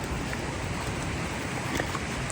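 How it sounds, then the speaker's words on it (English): River water flows beside a camping spot, a continuous rushing wash mixed with some wind buffeting, fairly loud and close, without clear speech on top. "river noise can really mess up filming for you guys"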